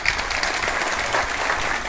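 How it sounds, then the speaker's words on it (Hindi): An audience at a school prize ceremony stands and claps loudly for a second-place student, producing a dense, steady burst of applause that fills the whole moment without a break. "आप खड़े होकर जोरदार तालियां करेंगे"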